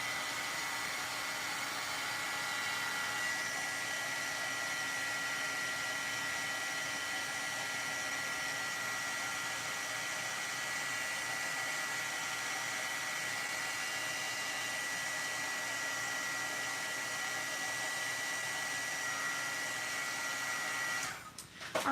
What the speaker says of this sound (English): go ahead and finish heat setting it